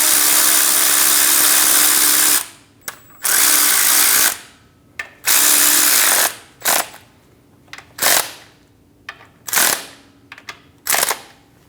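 Power tool spinning bolts into a plastic guard during oil cooler hose work on a Chevrolet Express 2500 van, one long whir followed by a series of short bursts and pauses, close and loud.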